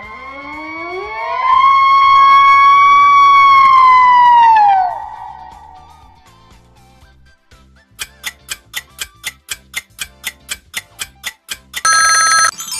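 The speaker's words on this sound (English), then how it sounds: "It's an elk." An elk bugles with a long, high, whistling call that rises and slowly falls, followed by steady ticking like a timer and a short bright chime.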